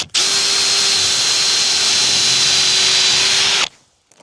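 A power driver runs a screw through a carpeted panel into a DIY camper van conversion, making one loud, continuous whirring whine for about three and a half seconds before cutting off into near silence.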